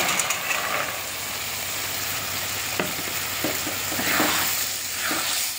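Raw green peas stir-fry with ginger garlic paste for ghugni, giving a continuous close sizzle with occasional spatula scrapes and stirring bursts, no talk.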